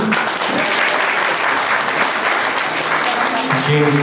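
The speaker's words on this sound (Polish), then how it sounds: "pani Grażynie Filip, pani Paulinie Pląder, Proszę o brawa dla nich." Audience applause at an Easter table-setting contest in Grobla, Poland, given for the jury: steady, dense clapping from a crowd that holds loud and even for the whole span, with a few voices mixed in.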